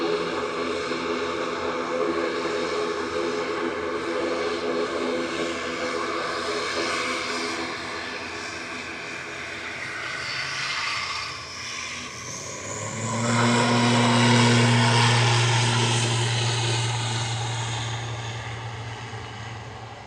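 An ATR turboprop airliner passes at Manchester Airport, a loud, broad engine roar that builds and swells past the middle, with a strong low propeller drone taking over before gradually easing off.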